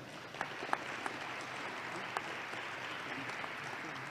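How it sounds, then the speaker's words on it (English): Applause after an introduction during a state House speaker's inaugural address, a steady wash of clapping from a large audience with a few sharper nearby claps, moderately distant and without speech over it. "Let's give him a round of applause."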